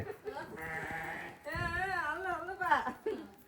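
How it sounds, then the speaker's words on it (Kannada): A sheep bleats loudly several times nearby, wavering and drawn out, with a short break between calls. "ಕುರಿ ನೋಡ್ರಿ ಹೆಂಗ ಕುರಿ"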